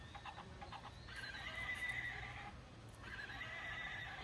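A horse gives a long, wavering whinny, then a second rising neigh, heard from nearby over faint background noise.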